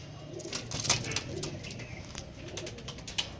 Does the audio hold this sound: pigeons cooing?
yes